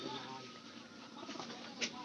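Domestic pigeon cooing in a rooftop dovecote, soft and low under steady background hiss, with a brief brighter call near the end.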